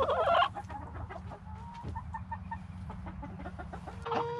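Chickens in a backyard flock cluck softly and intermittently, with a louder squawk at the start and another near the end, heard close by.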